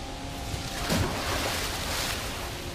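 Splashing water in the video game Kena: Bridge of Spirits as the character drops in, a broad watery wash with a brief surge near the start and steady surf-like noise throughout, no talking.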